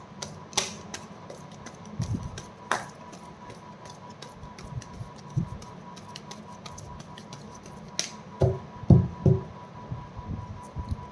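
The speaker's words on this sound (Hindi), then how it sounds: "This is my last shuffle" A deck of tarot cards being shuffled up close, producing irregular dry flicks and taps with scattered clicks, a busier burst of riffling near the end, no voices.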